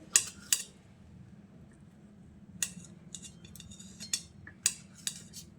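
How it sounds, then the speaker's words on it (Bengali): A knife cutting a tomato on a hard surface, heard as several separate crisp chopping taps with quiet pauses between them, close and fairly faint. "টমেটোটা কেটে নিলাম"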